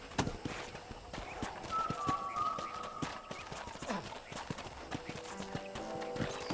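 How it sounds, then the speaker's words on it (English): Horse hooves clip-clop in a steady walking rhythm during riding in a video game, close and continuous, with faint background game sounds and a brief whinny-like tone. "let's see if you can still ride a horse."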